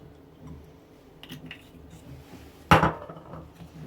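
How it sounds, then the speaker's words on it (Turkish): A spoon or spatula stirs a mixture in a pan with olive oil, salt and bread during Turkish home cooking. Soft, quiet scraping is capped by one sharp metallic clank against the pan. "Şöyle bir güzel karıştıralım."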